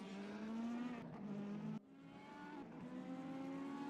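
A Mercedes C63 AMG race car roars through a racing video game in an eRacing competition, its engine note holding a steady, loud whine that dips sharply at a gear change and then climbs again.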